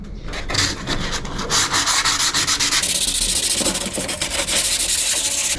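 An old paddleboard's underside is lightly sanded by hand, close rhythmic scratchy rubbing strokes repeating quickly and continuously, with a brighter, harsher texture partway through.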